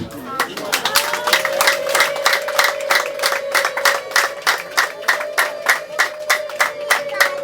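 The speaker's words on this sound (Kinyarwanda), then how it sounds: "umuryango turi kumwe wa Nzeyimana Yozefu wongere ubwize amashyi n'impundu" Wedding guests clapping in a steady, rhythmic beat at a celebration, with a sustained high ululation running over the claps throughout, close and lively.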